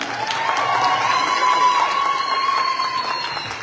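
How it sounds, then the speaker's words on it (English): A crowd at a content creators' masterclass in Lesotho cheers and claps in a dense, steady roar that holds at even loudness for several seconds, with a faint sustained tone running through it. "A big round of applause to yourself."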